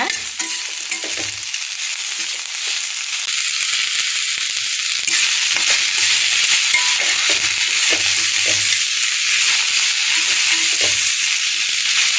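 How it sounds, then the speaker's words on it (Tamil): Snake gourd and coriander sautéing in a pan give off a loud, constant sizzle, with faint scrapes and rattles of stirring now and then. "கொத்தமல்லி கூட இன்னும் கொஞ்ச நேரம் பீக்கங்காய் நல்லா வதங்கிடுங்க."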